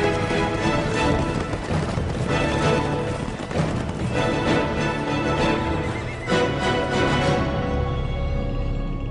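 Horses in a documentary scene, heard as a dense, continuous clatter of hooves and rumbling movement from a herd, with occasional whinnies mixed into the busy, full-range noise.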